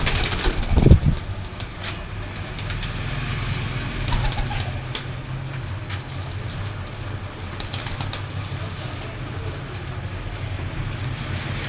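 Bharari breed pigeons kept for sale cooing softly, with a brief burst of wing flapping near the start, over a steady background rumble.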